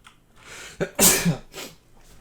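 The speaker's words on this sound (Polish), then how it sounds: "No i nie mogło zabraknąć kichnięcia." A single sneeze bursts out loud and close after a short inhaled breath, with a fainter breathy exhale trailing off afterward, during a Mount & Blade Warband gameplay session.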